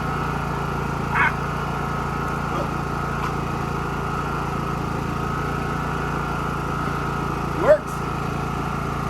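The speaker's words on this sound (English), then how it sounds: "I'm gonna plug my air compressor in there." Air compressor running off a Champion 4500-watt inverter generator, a steady mechanical drone held at a constant level throughout, with a brief short voice over it and a sharp knock or clatter near the end.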